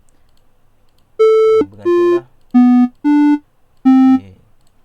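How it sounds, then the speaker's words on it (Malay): Five short electronic tones from a MakeCode play tone block set to middle C, each a steady pure beep of about half a second with brief gaps, loud and clear, one word spoken faintly between them. "kita minta play tone middle C"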